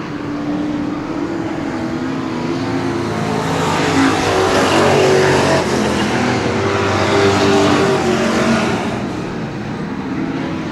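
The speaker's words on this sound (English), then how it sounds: "Your heat race number 2, NeSmith Street Stock winner, the 30 of Brian Meredith." NeSmith street stock race cars roar around the Cotton Bowl Speedway oval in a heat race, a dense, loud engine drone swelling to a peak and easing off, with no voices.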